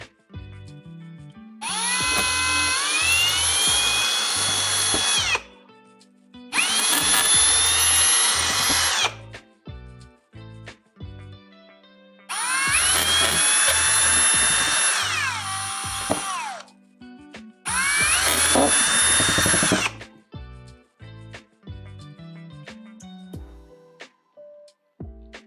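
Power drill enlarging holes in a 3D printer enclosure, four loud whining bursts of several seconds each, pitch shifting as the bit bites, separated by quiet gaps with small clicks.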